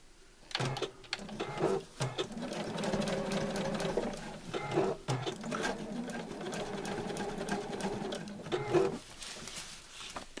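A domestic sewing machine stitching a craft project runs close and loud in several sustained whirring bursts, separated by brief pauses and small mechanical clunks.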